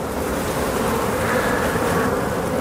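A dense, continuous buzzing of many honeybees fills the air around an opened beehive, loud and close without pause.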